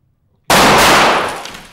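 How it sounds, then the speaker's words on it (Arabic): A single loud gunshot fired indoors in a studio: a sharp, sudden bang after near silence, its roar decaying over about a second. "ده رصاص بجد"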